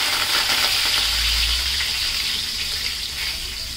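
Curry leaves, cumin and mustard seeds sizzle loudly in hot oil in a pan, a steady close crackling hiss that stays dense throughout with a brief low thump near the start.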